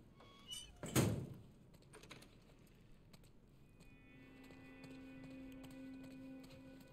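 A heavy door slams shut in The Last of Us, one loud close thunk followed by quiet room tone and a faint hum.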